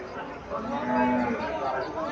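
A calf at a livestock market in Cumilla, Bangladesh, gives a single drawn-out moo, fairly close, over a faint background murmur.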